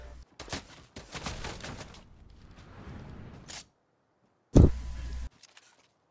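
Gunshots in Fortnite come in a few separate sharp cracks and a short burst, with a loud close blast near the end. Stretches of quiet sit between them.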